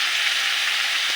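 Chicken pieces frying in a pan give a steady, close, hissing sizzle that runs unbroken through a brief moment with no talk.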